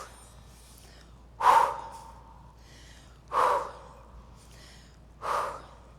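Three sharp, forceful exhales at steady intervals of about two seconds during an upper body strength workout, close and clear over a quiet background with no talking.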